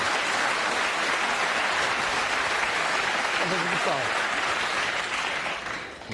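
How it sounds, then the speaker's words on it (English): A snooker audience at the world championship breaks into sustained, loud applause and cheering for Ronnie O'Sullivan's century break, with a commentator's voice under the clapping. "Stand by for the cheer."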